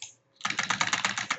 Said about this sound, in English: So maybe I'll just type that in.